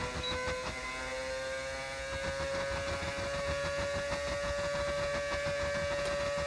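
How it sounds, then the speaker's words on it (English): An F1 car in a racing video game scrapes and clatters as it bottoms out at low ride height on a qualifying lap in Mexico. Rapid rhythmic knocks sit over a steady whining engine drone throughout. "You can hear the car bottoming out like crazy."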